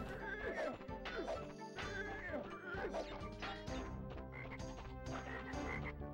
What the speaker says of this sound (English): Past the frogs, which don't seem to...